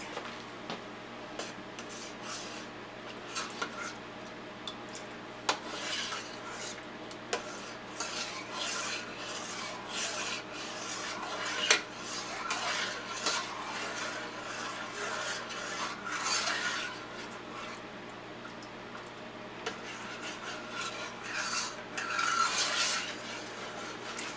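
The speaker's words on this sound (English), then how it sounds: "You got to keep stirring this guy so that corn starts to thicken on you real quick." A spoon scraping and rubbing around a pot as cornstarch-thickened rum sauce for bread pudding is stirred, a steady faint rasping rhythm with occasional louder strokes against a low background hum.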